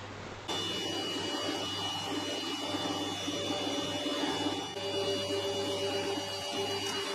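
A WeCreat laser engraver fitted with an infrared laser module runs steadily, a constant machine hum and fan-like whir with faint high whine, starting abruptly and holding an even level throughout with no talk.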